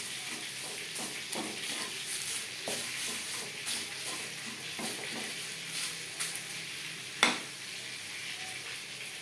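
Spices and broken bay leaves dry-roast and get stirred in a hot kadai over a low flame, giving a steady close sizzle with soft scraping strokes and a sharp clatter near the end.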